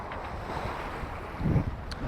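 Wind and sea noise around a sailboat under sail at sea in calm, low seas with a light breeze, a steady broadband rush of wind on the microphone with a slight swell of water sound near the end.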